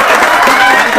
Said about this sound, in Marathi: जोरदार टाळ्या होऊ द्या.